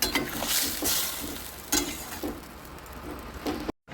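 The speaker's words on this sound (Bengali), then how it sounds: "এর সাথেই দিয়ে দিচ্ছি ডিমগুলো, দিয়ে একটু ফুটিয়ে নেবো।" Fish roe simmers in a sour mango curry, giving a steady bubbling sizzle with repeated spoon-stirring scrapes and knocks throughout. It cuts off abruptly just before the end.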